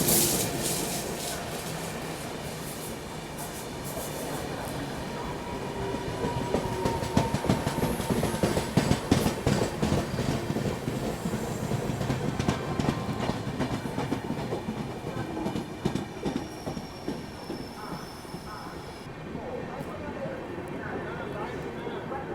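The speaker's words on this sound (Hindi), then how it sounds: "ये ट्रेन दूसरी बार ओवरटेक कर रही है हमको" A train overtakes on the adjacent track beside an AC special from Patna to Delhi, its wheels clattering in a long rushing stream with rhythmic clicks, swelling mid-pass and then fading, while people talk throughout.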